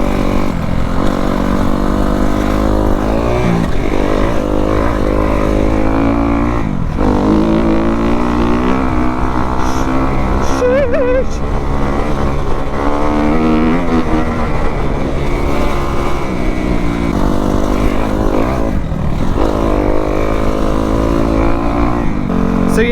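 A Kawasaki KX250F dirt bike roars loud and close throughout, its engine revving up and down continuously as it is ridden, with no speech over it.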